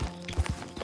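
A horse's hooves clop in the video game Red Dead Redemption 2, a few soft, uneven low thuds close by at a slow walking pace.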